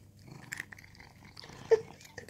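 A cat eating creamy Cats & Dine treats from a freshly opened container: quiet, close licking and chewing sounds with soft irregular clicks, and a faint purr underneath.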